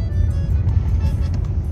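Car drives along a sandy beach at Ilha Comprida, a steady low rumble of engine and tyres, fairly close and continuous, with a faint brighter noise layer above.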